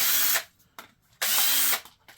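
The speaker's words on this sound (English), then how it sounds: "Can we get a drill and see? Drill this one?" A power drill bores into a plastic power strip during e-waste scrapping, whirring in two long, loud bursts separated by brief pauses and short spin-ups.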